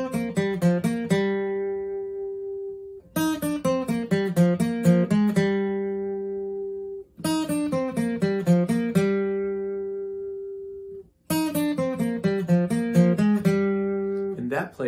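A guitar plays a banjo-style line in four repeated phrases of rapid picked notes that ring out and decay between bursts, close and clear, with no talking.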